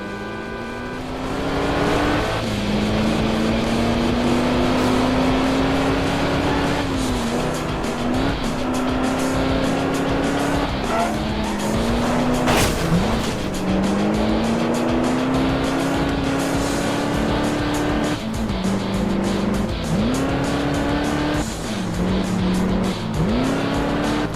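Cars race in the Crash Time 5 video game, with steady engine drone, repeated gear-shift pitch drops and occasional tire squeals and impacts. The sound runs continuously with no talking.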